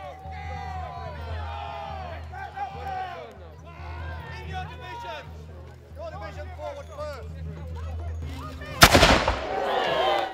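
A medieval cannon fires at a recreated 1464 castle siege: one sudden loud boom near the end with a rumbling tail, following a stretch of crowd chatter and voices.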